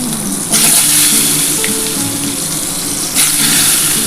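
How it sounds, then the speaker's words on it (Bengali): Potatoes fry in hot oil for a chicken dish, giving a loud, close, continuous sizzle that swells in brief surges. "আমার তেলটা গরম হয়ে গেছে আমি আলুটা ভেজে নেবো"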